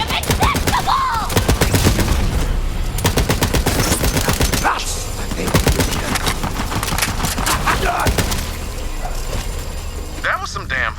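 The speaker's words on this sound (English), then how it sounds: "That was some damn fine shooting." Rapid automatic gunfire rattles through a Borderlands 3 firefight, with bursts of shots running nearly nonstop and loud, while characters shout and talk over the shooting.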